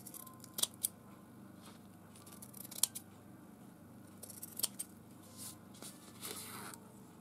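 Copy paper being trimmed with scissors during journal making, giving quiet, close snips that come in a few small bursts over soft rustling.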